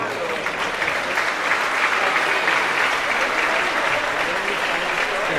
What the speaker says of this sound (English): Please join me in giving our officials a round of applause.